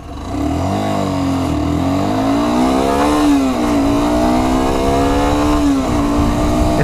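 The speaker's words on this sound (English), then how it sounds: "Now let's see how she does full acceleration." A Sym Wolf 125cc motorcycle pulls away at full throttle, its engine note climbing steadily through the gears in a loud, close, continuous rising whine with brief dips at each shift.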